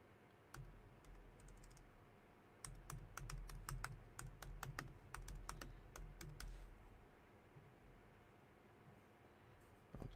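Bursts of keystrokes on a computer keyboard, quiet and close, with irregular clusters of taps and short pauses between them, over a faint background hiss and no talking.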